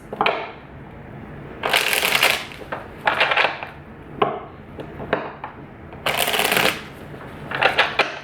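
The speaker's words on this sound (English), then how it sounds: "Let's pull a few future outcome cards." Tarot cards get riffled and shuffled during a twin flame reading, producing several crisp papery bursts of flicking and snapping cards with softer handling and tapping between them, close and clear with no talking.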